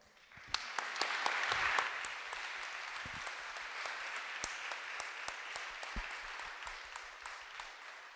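A conference audience applauds after a talk, a dense, steady clapping with a few sharp close claps, filling the whole stretch without voices.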